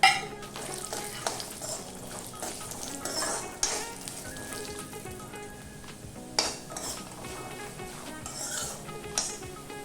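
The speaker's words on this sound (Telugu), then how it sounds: "ఆయిల్ కాగిన తర్వాత ఇందులోకి పల్లీలు అలాగే ఎండు కొబ్బరి వేసి వేపుకోవాలి" Peanuts and dried coconut fry in a tablespoon of hot oil in a pan, a steady close sizzle broken by repeated scraping stirs and occasional clinks of a utensil against the pan.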